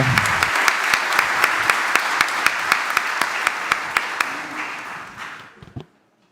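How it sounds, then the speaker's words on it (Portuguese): Warm applause in a legislative plenary chamber during a solemn session honoring teachers: dense clapping with a few sharp individual claps standing out, fading gradually and ending in a last scattered clap. "prestar justa homenagem com uma calorosa salva de palmas nesse plenário"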